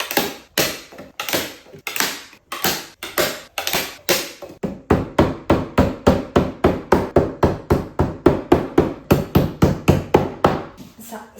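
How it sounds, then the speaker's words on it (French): Steel staples are driven with a hammer into the wooden frame of a custom-made cat sofa: a long run of sharp, close, loud blows, slow and spaced at first, then fast and steady. "je vais essayer de les mettre comme ça et après de les enfoncer au marteau"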